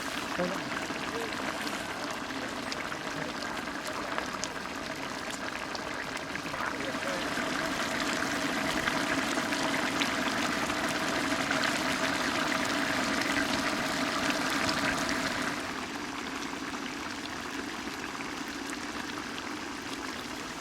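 Steady rushing of water being poured into a pot of country chicken curry gravy, a continuous close stream that softens near the end into a lighter bubbling simmer.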